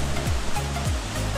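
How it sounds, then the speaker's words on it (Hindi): Water pouring down the roughly six-foot drop of Koradkot waterfall in Deogarh, a steady, loud, close rush that fills the whole moment with no voices. "यहाँ से पानी नीचे आ रहा है,"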